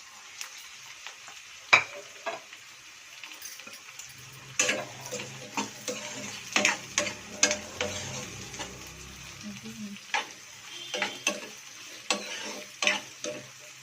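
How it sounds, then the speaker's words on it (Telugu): Onions with green chillies frying in a pan for a mutton head curry, a soft sizzle broken by repeated sharp spatula taps and scrapes against the pan, close by. "తర్వాత ఉల్లిపాయలు కొంచెం బాగా వేయించుకుందామండి. వేయించుకోవాలి ఉల్లిపాయలు బాగా."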